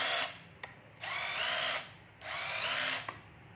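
A cordless battery hammer drill runs in three loud whirring bursts separated by short pauses, each with a whining motor tone and a click as the trigger is released.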